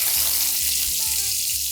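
Halloumi dropped into very hot oil in a pan, a loud steady hissing sizzle filling the short moment, with a few low knocks underneath.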